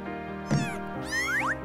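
A sick kitten meows twice in quick succession, a short cry followed by a longer wavering, rising-falling mew, close and clear over a faint background tone.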